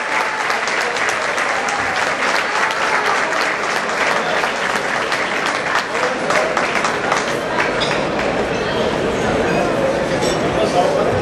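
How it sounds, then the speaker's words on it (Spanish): A crowd at an award ceremony in Sinaloa applauds steadily in dense, continuous clapping as people rise for a standing ovation, with a faint murmur of voices mixed in. "Un aplauso y la gente se pone de pie, claro que sí, para recibirlo."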